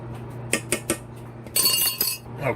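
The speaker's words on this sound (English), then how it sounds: "I'm just going to take my fork, kind of try to chop it and shred it up." A fork chops and shreds fake crab in a dish, giving a few sharp clinks and scrapes against the container, then a denser, busier burst of scraping toward the end.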